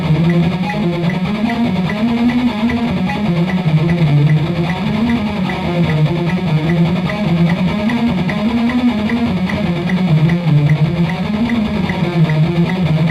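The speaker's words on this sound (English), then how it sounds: "Now I'm going to double pick that same passage" Electric guitar lesson passage double picked, each note struck twice in sixteenths, a fast, steady, dense stream of repeated notes played loud and continuous with no talking.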